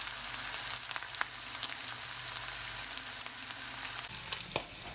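Onions fry in a pan with a steady close sizzle, broken by occasional scraping taps as they are stirred, quiet and continuous with no voices.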